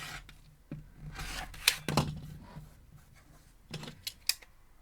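Fabric being trimmed along a ruler while piecing a quilt block: a few short, close rasping cuts with soft scraping and a couple of sharp clicks, quiet overall.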